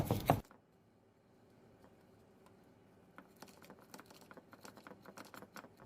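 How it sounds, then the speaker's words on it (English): A knife chops vegetables for roasted sweet potatoes, quick, light taps on a board starting after a short pause and speeding into a busy rhythm, close and fairly faint. "So I'm going to chop my vegetables."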